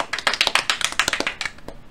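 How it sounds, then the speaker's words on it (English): A few people clap in a quick burst of light, rapid claps lasting under two seconds, close and crisp, with no talking over it. "You get regular claps."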